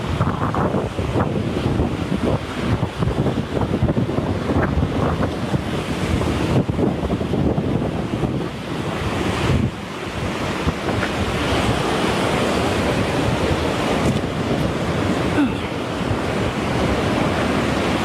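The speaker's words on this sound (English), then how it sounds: "this is the ocean here." Ocean surf breaking continuously with heavy wind buffeting the microphone, a dense steady roar of waves at close range with no talking.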